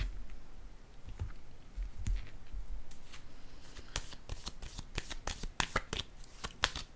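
Tarot cards are handled, shuffled and laid down on a table, with soft rustling at first and then a quick run of crisp slapping snaps, close and fairly quiet.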